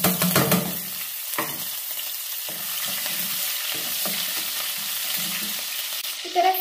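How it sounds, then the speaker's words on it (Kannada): Mustard seeds and cumin splutter in hot oil during a tempering, a close crackling sizzle with scattered pops, louder at the start and end, with no one speaking. "ನೋಡಿ ಸಾಸಿವೆ ಜೀರಿಗೆ ಎರಡು ಸಿಡಿತಾ ಇದೆ"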